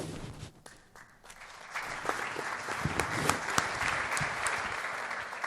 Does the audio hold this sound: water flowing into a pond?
no